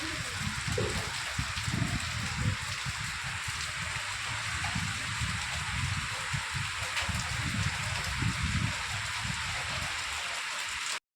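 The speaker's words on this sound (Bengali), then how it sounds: "এই বৃষ্টির আওয়াজটাও আমার খুব ভালো লাগে" Steady rain falls outdoors beside a hospital surrounded by greenery, a continuous close hiss with a soft, uneven low patter running under it for the whole stretch.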